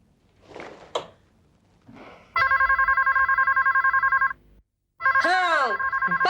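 Telephone ringing in a TV drama household, an electronic ringtone with repeated pulsing tones and a warbling melodic phrase, loud and close after brief sounds and a short voice.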